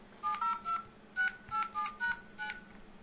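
Keypad tones from the dialer of a Microsoft Kin 2 phone: about nine short, clear beeps in quick, slightly uneven succession, close and alone.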